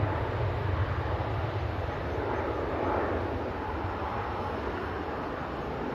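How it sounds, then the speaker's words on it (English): Pilatus PC-24 business jet taking off, a loud continuous broadband engine roar that holds steady and close throughout, with no talking. "That was a proper Air Force takeoff."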